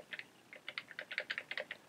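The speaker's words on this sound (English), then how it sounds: "But I'm typing it. Hear that?" Rapid, uneven keystrokes on a computer keyboard while entering song arrangement letters in presentation software, a quick run of close, crisp clicks with no talking.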